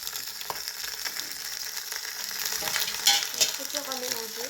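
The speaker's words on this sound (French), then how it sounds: "Donc là, il faut mélanger, donc ça va faire un peu de bruit," Carrots sizzle in hot oil in a soup pot while being stirred, a continuous frying hiss with scraping spoon strokes and a couple of louder clatters near the end, close and without speech.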